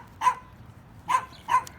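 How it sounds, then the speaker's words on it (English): A small dog barks three times in sharp, separate yips, the first alone and the last two closer together, heard at moderate distance with no talk. "Definitely don't want to drop my tube down there with that little killer dog down there"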